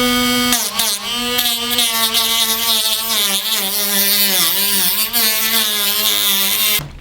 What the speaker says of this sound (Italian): Prendiamo il Dremel